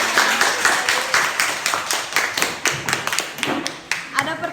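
A classroom audience claps for the first student group after their presentation, a burst of scattered hand claps with uneven rhythm, close and moderately loud, fading toward the end.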